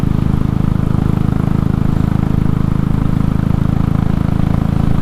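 A Royal Enfield Classic 500 single-cylinder motorcycle engine runs steadily at low revs, a loud, even, rapid thumping idle that continues without a break and with no voices.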